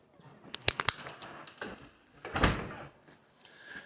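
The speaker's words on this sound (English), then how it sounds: "it's a little tricky with the storm door" A storm door opens and closes outdoors. Two sharp metallic clicks of the latch are followed by a swinging rattle and a louder thud as it shuts, heard up close.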